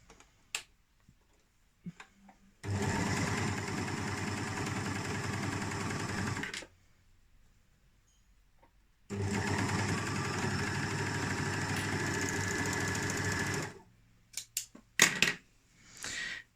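A serger stitches stretchy fabric at a low differential-feed setting, pulling it into a wavy lettuce edge. Two loud, steady mechanical whirring runs of about four seconds each are separated by quiet, with faint handling clicks at the end.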